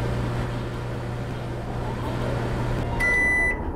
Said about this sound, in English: Close the door and let me get a shot of the microwave running.